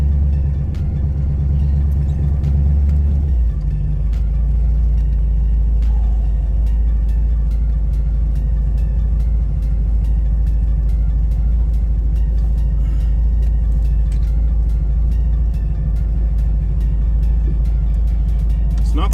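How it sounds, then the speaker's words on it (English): A 1977 Avanti's small-block Chevy V8 idles with a slightly loose lifter and a possible exhaust leak, a steady deep low rumble with a faint ticking running through it, close and continuous. "Sounds like I got a lifter just a smidge loose"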